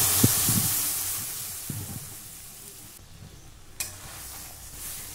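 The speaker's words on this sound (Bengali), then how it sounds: "ডালটা আমি একটু খুন্তি দিয়ে নেড়ে নিলাম" Boiled masoor dal stirred with a spatula in a hot pan after frying raw mango, giving a steady close sizzle with a few soft scraping strokes near the start and a brief clink later.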